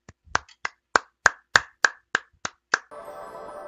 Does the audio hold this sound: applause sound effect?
yes